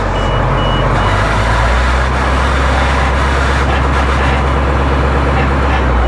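An old school bus engine labours in low gear, a loud steady low rumble close by that holds heavy and unbroken, as if the bus is struggling to move.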